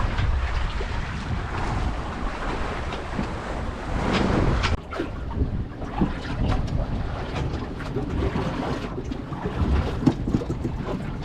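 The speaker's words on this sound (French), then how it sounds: "On avance au vent de travers en direction de la baie de Morlaix." Steady rush of wind and water around a First 25 sailing boat under way in a crosswind toward the Bay of Morlaix, with broadband noise, wind buffeting the microphone and splashing waves throughout.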